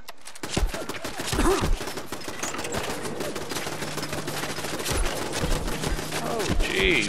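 Video game gunfire in Fallout 4 crackles in a rapid, dense fusillade for several seconds, with weapon shots and combat noise filling the scene. No speech is heard.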